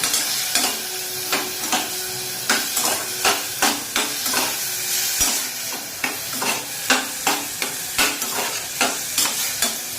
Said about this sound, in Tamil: இதை நல்லா பச்சை வாசனை போகிற வரைக்கும் வதக்கிக்கணும்